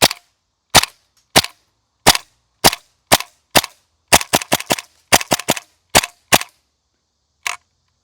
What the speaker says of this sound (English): get some shots down range and see if the tracer works. We'll start this guy off in semi.